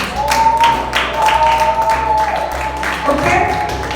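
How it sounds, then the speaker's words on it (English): Students at a school debate competition clap for a team, scattered irregular hand claps running throughout, fairly close, with voices and chatter mixed underneath. "Let's give Team A a round of applause."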